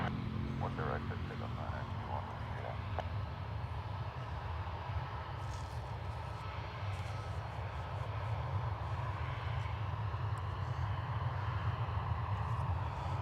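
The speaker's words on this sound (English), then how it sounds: "Turkish from Istanbul landing in the background" A Turkish Airlines jet arriving from Istanbul lands at Dublin Airport, heard as a steady, distant low engine roar that swells slightly toward the end, with faint background noise and no clear talk.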